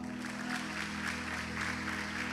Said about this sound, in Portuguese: Agora os solteiros vão dar uma salva de palmas só para os casados, vão lá.